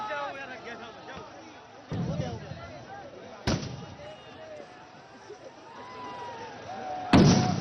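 Tear gas shells fired by police at a farmers' protest on the Haryana-Punjab border, heard as a few sharp, loud bangs spaced several seconds apart over crowd noise and distant voices.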